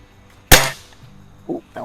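A Crosman Optimus .177 break barrel pellet rifle fires a single sharp, loud shot in a backyard, followed by short fainter sounds and a voice.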